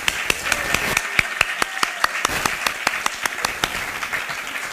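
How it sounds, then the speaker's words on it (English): Steady, evenly spaced claps ring out over a soft wash of applause, a crowd clapping in a regular rhythm at an EquityTech showcase event. "let's have a big round of applause one more time for our fellows"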